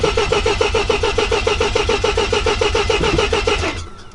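A Mazda RX-7 that sat unused for 23 years cranks over steadily with a rapid rhythmic starter chug, loud and close, without firing, then winds down at the end.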